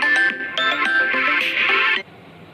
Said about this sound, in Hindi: फ़ोन आ रहा है बार बार